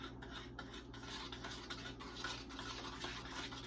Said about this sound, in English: I'm going to mix my dough up